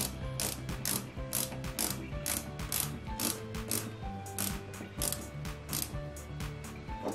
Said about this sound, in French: on y met une vis à tête plate, une vis HM, et on visse tout ça proprement et délicatement